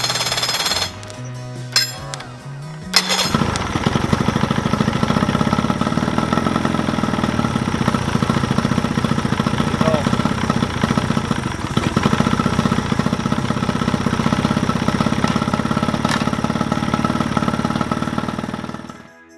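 A small boat outboard motor sputters to life after a few pulls, then idles with a steady, rattling chug that continues for a long stretch.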